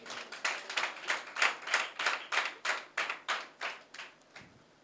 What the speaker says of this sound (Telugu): చప్పట్లు కొట్టండి దేవునికి.